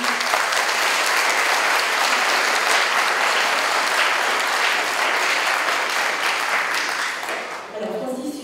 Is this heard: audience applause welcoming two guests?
yes